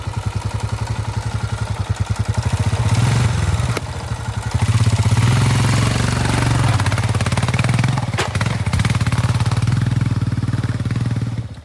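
Royal Enfield Himalayan motorcycle climbing a hill under steady power, its single-cylinder engine thumping loud and close with a rapid, even pulse and clattering mechanical roughness over wind noise, with no talking.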